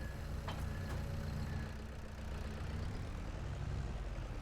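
A tractor engine idles steadily in the Farming Simulator 22 video game, a low rumbling drone at moderate level running throughout with a couple of faint clicks, no voices.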